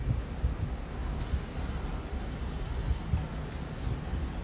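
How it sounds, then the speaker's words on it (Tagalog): Wind blows in gusty rumbles against the microphone, a low steady rush with occasional buffeting bursts, no voices. "Malamig ang simoy ng hangin."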